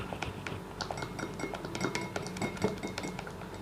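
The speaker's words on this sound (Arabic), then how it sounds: "هنبدأ نقلب تاني المكونات مع بعضها كويس جدا" A spoon stirring homemade face mask ingredients in a bowl, giving steady soft clinks and scrapes in an uneven rhythm, close and quiet, with no talk.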